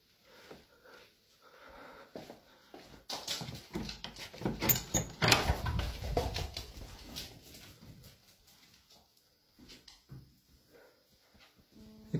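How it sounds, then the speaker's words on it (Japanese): A door inside a house makes faint scraping, rattling and knocking noises in an irregular cluster mid-way, set against a quiet room background. "撮影者がカメラを回していると、扉から音がします"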